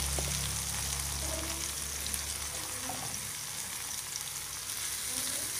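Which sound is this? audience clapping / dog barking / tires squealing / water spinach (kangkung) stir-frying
water spinach (kangkung) stir-frying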